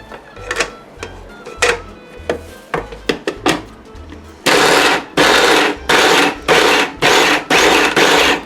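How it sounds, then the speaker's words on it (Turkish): An electric food processor chops onions for lahmacun filling in a run of short, loud, evenly spaced pulses, each a few seconds after lighter knocks and taps. "O yüzden soğanlarını böyle birkaç parçaya bölüyorum, atıyorum ve rondomda çekiyorum."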